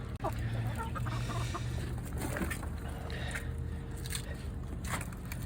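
Backyard chickens fed rice and beans cluck steadily, several birds overlapping in a busy, continuous chorus with occasional sharper calls, recorded close up against constant farmyard background noise.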